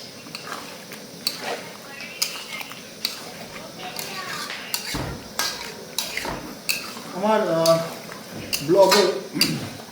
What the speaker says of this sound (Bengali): এবার মাংস কষানো চলবে